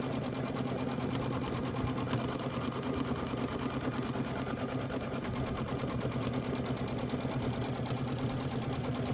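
A sewing machine stitches a quilt block design in a rapid, even mechanical patter that runs continuously at a moderate, close level, with no one speaking.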